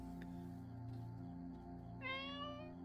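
A cat meows in the video game Copycat, one clear rising cry near the end over a steady low ambient game hum, fairly faint.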